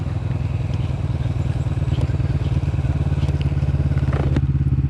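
Kawasaki Vulcan S motorcycle cruising country lanes on a wet day, its engine giving a steady, loud, low rumble close to the rider, with road and wind noise mixed in.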